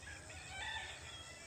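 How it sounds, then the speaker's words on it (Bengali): A rooster crowing faintly in the distance on a rural afternoon, one short call over low background noise. "ওইখানে আবার মুরগা ডাকতেছে।"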